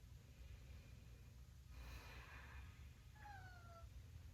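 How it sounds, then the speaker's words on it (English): A pet cat named Svetlana gives a single short, faint meow near the end, preceded by a soft breathy snort, in an otherwise quiet room. "my cat Svetlana is joining us today"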